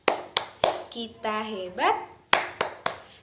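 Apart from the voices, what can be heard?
class doing a rhythmic spirit clap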